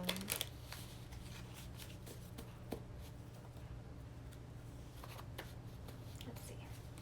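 Soft riffling and flicking of playing cards being shuffled, quiet and close, with occasional light taps.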